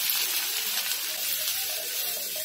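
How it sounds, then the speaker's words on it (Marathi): Cumin, mustard seeds and onion sizzle steadily in hot oil in a pan for anda bhurji, a close, continuous bright crackle with no pauses and no voices. "तेल गरम झालं ना की इथे जिरं टाकायचंय, तसं 1 चमचा राई आहे, थोडा कांदा टाकायचा आहे"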